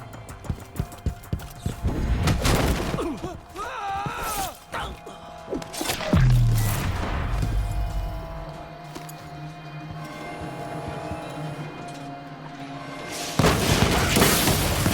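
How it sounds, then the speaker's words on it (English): Watchtower explosives go off in Dishonored 2, a heavy boom near the middle followed by crashing debris and clattering impacts amid game noise, with another loud burst near the end. "watchtowers shoot explosives"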